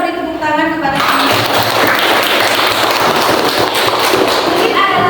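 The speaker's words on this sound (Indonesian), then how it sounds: "Ayo kita beri tepuk tangan kepada teman." Classroom applause for a student's correct answer in a solar system lesson, loud, dense clapping that bursts in after a teacher's voice and carries on for about four seconds before talk resumes.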